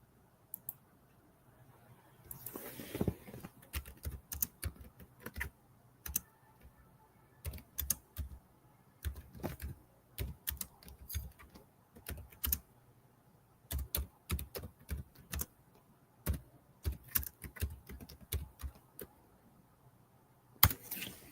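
Fingers type on a computer keyboard in short bursts of rapid clicks separated by pauses, close and fairly quiet, with a louder clack near the end like a final key press.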